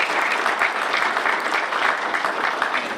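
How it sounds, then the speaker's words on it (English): A seminar audience in Kansas welcomes master teachers to campus with sustained, loud applause, dense clapping from many hands with no speech over it. "So you'll please just welcome them to campus with a round of applause."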